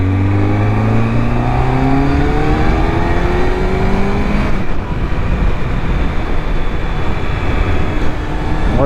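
A 2005 Triumph Daytona 650 with only 756 miles revs on a road test ride, its engine note rising steadily through the gears before giving way to a steady rush of wind and road noise, loud and close, with no talking.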